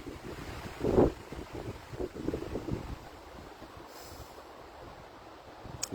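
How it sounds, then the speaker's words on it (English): Wind gusts outdoors rumble against an open microphone, with a stronger blast near the start and steady low buffeting throughout, no voices heard. "Guys, can you hear me? Because it's pretty windy."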